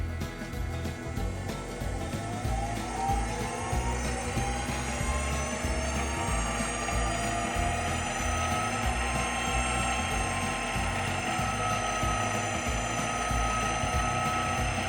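A Grizzly G0704 1 HP mill/drill spindle runs continuously during its break-in, producing a steady mechanical whine over rapid, even low pulsing, close and unbroken.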